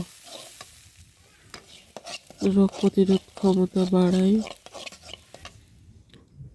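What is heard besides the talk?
frying and stirring green peas in a little oil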